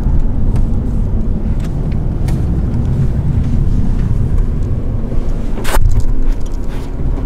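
A supercharged Jaguar XJR drives off, its engine a steady low rumble close to the microphone with some wind buffeting and a brief sharper noise near the end.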